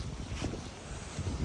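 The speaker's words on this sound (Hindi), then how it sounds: "हवा काफ़ी तेज़ है।" Strong wind in the Netherlands on a cold, drizzly evening, a steady loud roar of gusts buffeting the microphone, with no voices.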